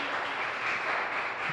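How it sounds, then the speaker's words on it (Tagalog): A church congregation at an evening service applauds together, a dense, steady wash of clapping at moderate volume lasting throughout, without voices over it. "Pumalakpak po ang bawat isa sa Panginoon."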